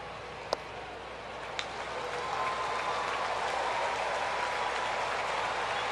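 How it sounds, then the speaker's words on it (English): Atlanta Braves fans at a baseball game against the Washington Nationals cheer as the count goes full, a broad crowd roar that swells and holds, with a couple of sharp claps early on. "Braves fans are cheering because it's gone to 3-2."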